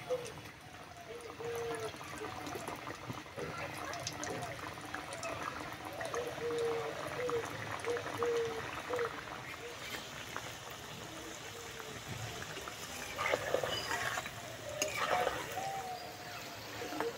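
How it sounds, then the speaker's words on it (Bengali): Nimki pastries deep frying in hot oil, giving a steady, continuous bubbling and sizzling hiss that holds evenly throughout, with faint background sounds and no speech. "বাকিগুলো একইভাবে ভেজে নেব।"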